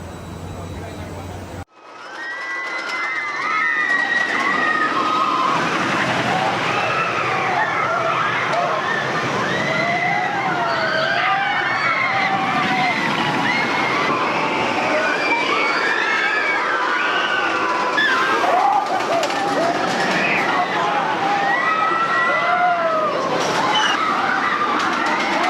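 Twisted Cyclone roller coaster at Six Flags Over Georgia roars along its track after a sharp start, a loud continuous rush of wind and rattle with screaming riders throughout.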